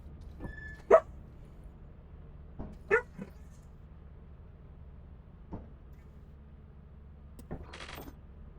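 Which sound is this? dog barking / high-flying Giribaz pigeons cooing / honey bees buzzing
dog barking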